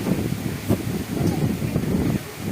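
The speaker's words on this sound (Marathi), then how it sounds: "बापरे किती वारं आहे" Strong cool wind gusting outdoors at a house, a rough low rumbling buffet against the microphone with rustling, continuous and fairly loud, with a voice faintly present underneath.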